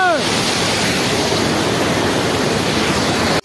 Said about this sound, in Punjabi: ਪਾਣੀ ਇਹਦਾ ਇੰਨਾ ਤੇਜ਼ ਆ ਰਿਹਾ ਨਾ